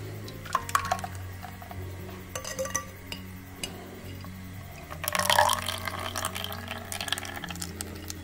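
Milk poured into a steel bowl, a soft liquid trickle with light metallic clinks, swelling into a brief louder splash near the middle before settling back to a gentle pour.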